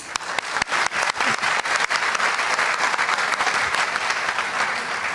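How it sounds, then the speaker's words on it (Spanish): A church audience at a religious talk breaks into loud, close applause for a speaker, with sharp individual claps at first that blend into a steady dense roar. "Un aplauso para el hermano."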